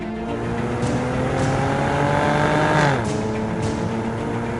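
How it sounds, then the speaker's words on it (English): A Cadillac ATS with the 3.6-litre V6 drives a winding road, its engine droning steadily from inside the cabin, rising in pitch as it accelerates, then dropping as the driver lifts off into a corner. "Here we are on the windy road section in the Cadillac ATS"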